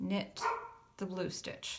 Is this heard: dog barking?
yes